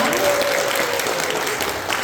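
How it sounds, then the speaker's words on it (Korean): Steady applause from a church audience at a children's department program, sustained and even throughout with a faint voice or tone lingering underneath. "다시 한번 박수 한번 부탁드리겠습니다"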